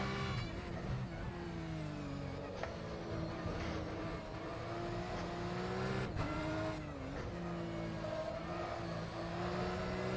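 Porsche 911 Cup race car in rFactor 2 at the Nürburgring Grand Prix circuit, engine roaring loud and steady through the whole stretch, pitch rising and dipping with gear changes and throttle, with brief tire squeal.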